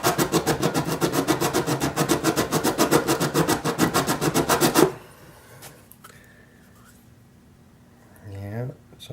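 Rapid, rhythmic rasping strokes of 120 grit sandpaper on an antique brace, close and loud for about five seconds, then stopping, followed by quiet room noise and faint handling.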